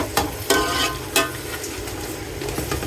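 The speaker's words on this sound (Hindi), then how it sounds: "अब हमने तेल डाला है और इसमें हमने प्याज डाली है और तेज पत्ता डाला है" Onion and pieces of bay leaf fry in hot oil in a home kitchen for bean pulao, a close, steady sizzle broken by a few sharp crackles and stirring scrapes, with no voices.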